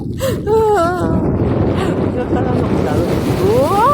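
Steady wind buffets the microphone in a broad, constant roar, with a voice speaking briefly over it near the start and end.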